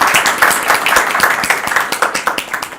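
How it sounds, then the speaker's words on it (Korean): An indoor audience at a presidential election debate forum claps steadily, a dense patter of many hands that holds strong and then gradually thins toward the end. "박수 많이 해주시기 바랍니다."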